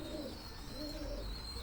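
Racing pigeons coo softly in repeated low calls, steady and fairly close, with no one speaking.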